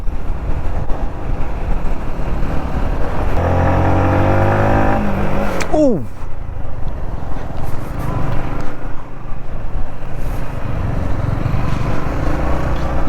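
A motorbike engine drones steadily while climbing a hill road near Hesaraghatta grassland, with a brief rising whine and a sharp swooping pitch drop midway, the ride noise and wind continuous and close.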